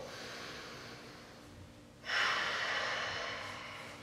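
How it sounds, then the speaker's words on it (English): Breath drawn in and pushed out through the nose while holding an intense arm-focused yoga pose, one quiet exhale followed by a louder, sustained rushing nasal breath close to the microphone, with no speech. "So, breathe through your nose,"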